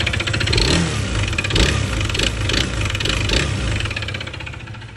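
A Honda PCX 160 scooter engine with an abnormal fault noise runs loudly up close with a rough, rattling, knocking clatter throughout, the rhythm slightly uneven.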